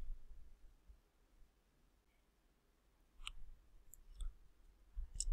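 A few faint, sharp mouse clicks land sparsely on the edit button in a page-builder tool, isolated against a near-silent background with no talk.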